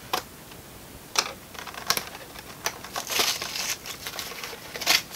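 Tape peeling and crinkling off plastic toy packaging for a Mattel Jurassic World Mosasaurus figure, heard as close, irregular sharp crackles and ticks with brief rustling bursts, no voices.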